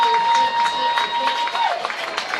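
A home crowd cheers at the final whistle of a high school football playoff game, Newark Memorial at Cardinal Newman, as a loud broad roar swells beneath a steady announcer's voice with faint whistles and scattered claps.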